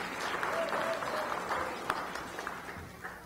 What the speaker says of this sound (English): You can applaud for him.